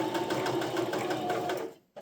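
A sewing machine stitching a heart purse runs loud and steady at close range for nearly two seconds, then stops abruptly with a brief clunk at the end.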